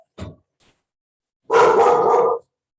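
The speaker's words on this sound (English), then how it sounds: "Sorry about the dog." A dog barks indoors during a chair yoga class: one short yip, then a longer, louder bark a second later, with no talking over it.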